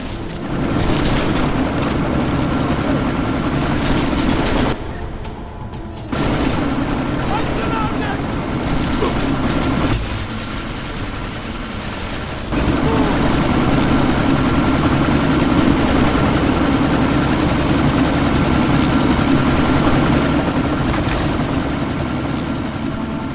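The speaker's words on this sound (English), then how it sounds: "That chopper's about to take off!" A helicopter in the video game Deus Ex: Mankind Divided, about to take off, gives a loud, steady rotor and engine roar that runs almost the whole time and briefly dips twice, with busy game sounds mixed in.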